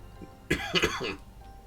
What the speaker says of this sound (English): Still have a little bit of a cough every now and then